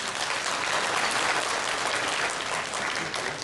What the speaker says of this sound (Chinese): 让我们再次一次热烈掌声来欢迎他们